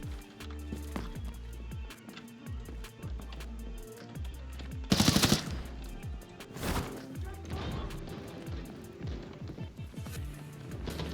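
Automatic weapons fire in the shooter game Arena Breakout Infinite, scattered bursts and single shots over running footsteps, with one especially loud nearby blast midway through.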